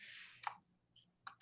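Quiet computer keyboard typing, a few soft clicks and taps spaced out with brief pauses, close and faint with no talking.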